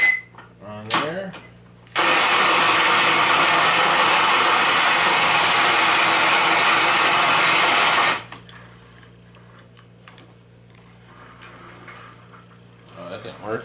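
A power drill spinning a worm gear on a homemade drawing board, a steady loud whirring drone running for about six seconds, with brief handling clicks before it and a faint hum and clatter after.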